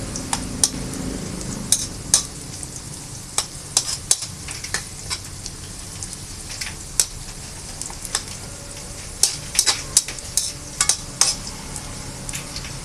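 Onion and garlic sautéing in a pan give a steady low sizzle, broken by frequent sharp clicks and taps of a utensil stirring against the pan, with no voices.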